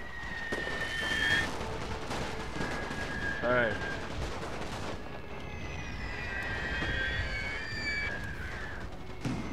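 Infantry volleys in Napoleon Total War with The Great War mod, German Empire side: ragged crackling gunfire rolling in bursts at middle distance, mixed with battlefield noise and game voices, while someone talks over it.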